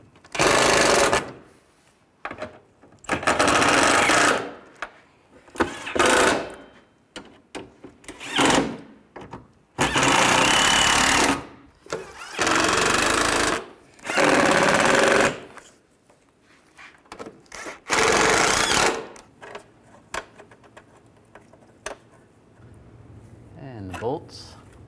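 A power tool tightens bolts on the radiator of a 1998-2010 Volkswagen Beetle, firing in repeated loud bursts of a second or two with short pauses between them, close to the microphone.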